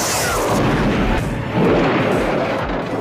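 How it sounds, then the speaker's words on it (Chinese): In an Arnold Schwarzenegger action movie, a shoulder-fired rocket launcher blast lands as a loud, sustained boom with a rumbling roar and a second surge midway. "扛起火箭筒直接轰了过去"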